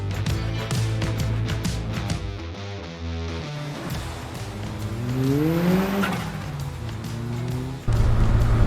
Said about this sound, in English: and that turbo overrun sounds absolutely brilliant.